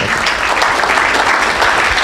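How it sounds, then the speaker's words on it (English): Audience at an investment club meeting applauds steadily, a dense, even wash of clapping from many hands that carries through the whole moment without talk. "Give him a round of applause."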